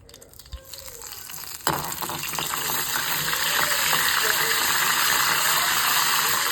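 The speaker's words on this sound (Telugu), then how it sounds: "ఒక బాండి తీసుకొని దీంట్లో కొంచెం కొబ్బరి నూనె వేసానండి, తాలింపు గింజలు వేసానండి" Tempering seeds, coriander and curry leaves hitting hot coconut oil in a kadai for Andhra-style tomato dal, a sudden loud burst of sizzling that settles into a steady, close crackling fry.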